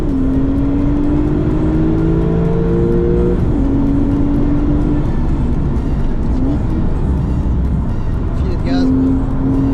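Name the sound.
race car engine on track, Porsche or KTM X-Bow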